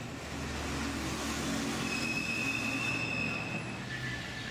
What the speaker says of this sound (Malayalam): വിശാലമാണ് ജമൈക്കയുടെ റെയിൽവേ സ്റ്റേഷൻ.